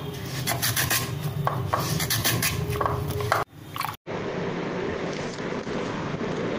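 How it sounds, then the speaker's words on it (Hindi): Raw potatoes are sliced into chips on a hand chip-cutting machine, making rhythmic rasping strokes close by. The sound then shifts to a steadier, duller scraping after a short break. "इसमें चिप्स निकाल लेंगे मशीन से"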